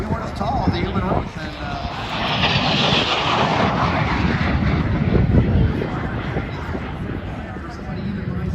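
Fixed-wing airplane flying at an air show in Santa Maria, California, a loud, continuous engine roar that swells and holds throughout, heard alone without voices.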